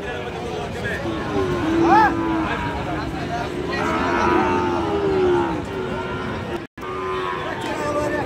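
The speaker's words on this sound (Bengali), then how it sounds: "এগুলা ষাঁড় গরু।" At a busy cattle market, a bull gives one short, rising moo early on, heard over a steady wash of crowd chatter and livestock noise.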